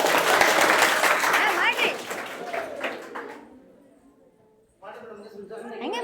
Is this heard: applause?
yes